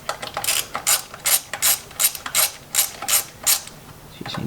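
A hand ratchet undoes 12mm thermostat housing bolts on an 80 series, clicking in about nine quick, evenly spaced bursts, close and clear with no talk.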